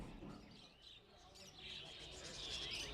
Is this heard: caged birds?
yes